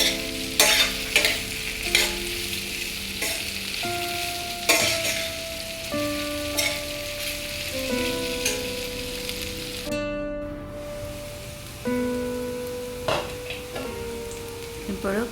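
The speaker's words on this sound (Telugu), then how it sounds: "కొంచెం పసుపు వేసి ఫ్లేమ్ సిమ్లో పెట్టి మిక్స్ చేసుకుంటూ ఉండాలి ఫ్రై అయ్యేదాకా" Bitter gourd pieces with turmeric frying on a low flame, stirred often: a steady sizzle with regular scraping and metallic clinks of a spoon against the pan.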